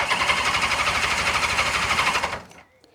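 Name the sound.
old car engine cranking and turning over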